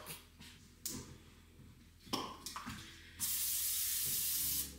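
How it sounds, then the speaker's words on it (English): Butter-flavored cooking spray hisses onto slices of bread in a home kitchen. Short handling clicks and a brief spritz lead into one long, steady, close hiss. "Spray butter just to cook the bread so it gets like crispy and not just burnt. I just spray both sides."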